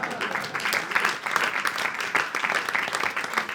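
Studio audience applause fills a French talk show set with dense, steady clapping that holds loud and close throughout, with no voices over it.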